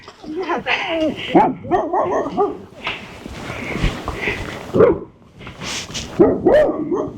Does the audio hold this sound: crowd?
no